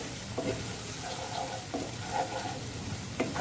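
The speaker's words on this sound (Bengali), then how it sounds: "মশলাটা খুব ভালো করে কষাতে হবে।" Spice paste with ground turmeric, cumin, coriander and Kashmiri chili powder is stir-fried in a pan for a mixed-vegetable dish, giving a soft sizzle broken by repeated scraping stirs.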